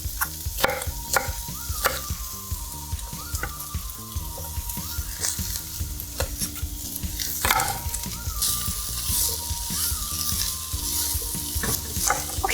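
Diced leftover rotisserie chicken sizzles loudly in a hot pan for fried rice, a continuous close fry with repeated stirring scrapes and clatters throughout.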